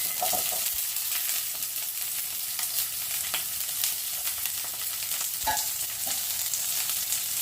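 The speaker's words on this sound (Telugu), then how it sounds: "ఇప్పుడు మనకి ఆయిల్ వేడెక్కిపోయింది. దాంట్లో ఉల్లిపాయలు పచ్చిమిరపకాయలు వేసుకోవాలి." Onions and green chillies frying in hot oil, a steady dense sizzle with crackling and stirring scrapes, loud and close throughout, with no talking.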